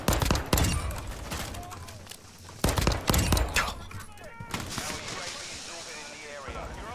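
Gunfire from a video game gun, loud rapid bursts of shots in clusters with short pauses, followed by quieter clattering game sounds and someone speaking over them.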